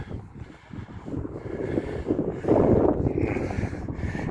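Wind gusting across an open hilltop on a hike above Lake Velence, a steady roaring rush buffeting the microphone that swells louder midway and stays strong, with no voices.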